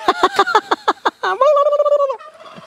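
A rapid series of loud, close turkey gobbles, warbling and repeated, followed by a longer sustained call trailing off into quieter bird sounds.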